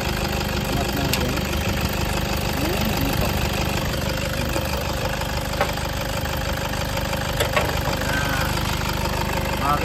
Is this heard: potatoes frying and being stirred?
no